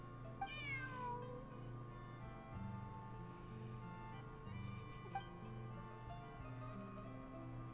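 A cat meows a few times in a video game, clear and close over a steady low musical hum.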